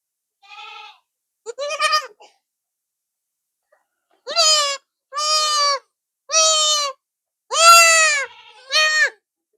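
Goats bleat up close in a series of about seven loud, wavering calls, a few short ones followed by longer, strained bleats with brief silences between.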